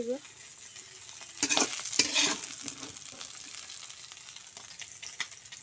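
Native koi and shing fish fry in hot oil with a steady crackling sizzle, as metal clatters and scrapes in a burst near the middle while the reddened pieces are lifted out of the pan.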